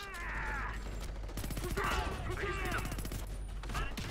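Rapid automatic gunfire in the video game Homefront: The Revolution, bursts of close, sharp shots crackling in quick rhythm with mechanical clatter between them.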